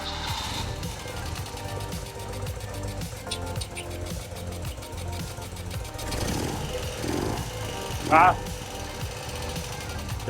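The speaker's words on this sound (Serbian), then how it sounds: "A sad ću da ga upalim" A BMW R60/7 motorcycle engine runs at a steady, rapid knocking idle close by, with a rise in revs partway through and a brief sharp clatter near the end.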